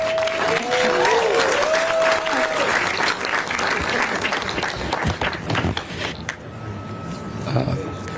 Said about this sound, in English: we want to be able to give a big round of applause to our public defender, Manu Raj.